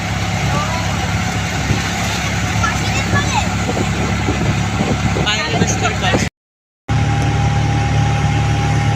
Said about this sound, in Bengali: দেখ আমরা সবাই অটোতে উঠে গেছি